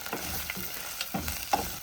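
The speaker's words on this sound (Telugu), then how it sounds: "సో ఇప్పుడు మంచిగా ఫ్రై చేసేసుకున్నాం." Cashew nuts frying in oil in a pan while being stirred, a soft sizzle with repeated scraping strokes of the spatula, close and quiet, no talking.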